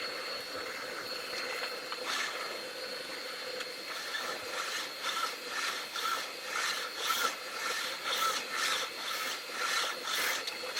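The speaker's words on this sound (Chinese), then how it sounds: "最后用锉刀打磨一下螺纹上的毛刺" A metal hand file deburs a screw thread freshly cut on a lathe. It makes soft, steady rasping strokes that grow more rhythmic and distinct partway through, with no voices.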